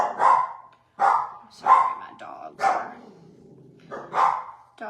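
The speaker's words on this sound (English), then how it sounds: "dogs are going to bark." Several dogs bark in a domestic setting, loud, close bursts spaced about a second apart over roughly five seconds, with a brief spoken apology in between.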